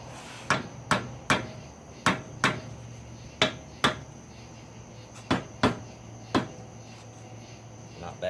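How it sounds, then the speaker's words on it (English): Hammer blows straightening forged railroad spike tong blanks ring out as sharp, separate metallic strikes, often in pairs at an irregular rhythm, over a faint steady hum. "Straighten with a hammer as needed."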